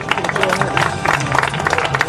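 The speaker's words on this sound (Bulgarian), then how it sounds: "Аплодисменти за нашата призова тройка" A crowd applauds the winning trio at an awards ceremony for young drivers, with steady, dense clapping and a murmur of voices throughout.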